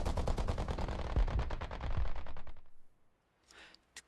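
Rapid bursts of aircraft cannon fire from a fighter plane in the War Thunder air arcade game, a loud, steady machine-gun-like rattle lasting about two and a half seconds, then a brief lull and a fainter burst at the end.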